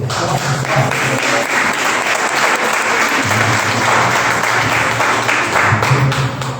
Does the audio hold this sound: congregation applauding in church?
yes